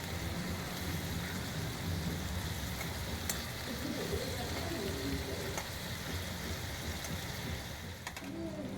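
Prawns frying in oil in a pan, giving a dense, continuous sizzle that fills the background at moderate level, with occasional faint clicks and a few indistinct voice traces beneath.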